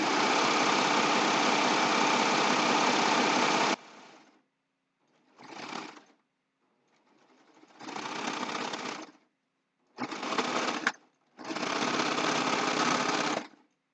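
A serger sewing machine stitches a zipper bag, running in a long steady burst and then in several shorter bursts separated by pauses.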